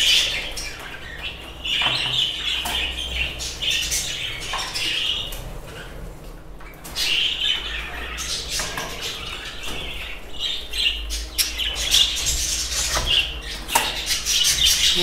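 Birds chirp and squawk close by while eating homemade bird food, a busy, continuous chatter of calls with occasional rustling and wing flutters.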